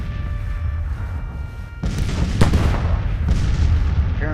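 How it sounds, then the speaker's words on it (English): Artillery bombardment in the Civil War strategy game Grand Tacticians rumbles as several deep booms and bursts over a low battlefield din, with a sharp crack standing out in the middle. "They just got artillery bombarding us right now."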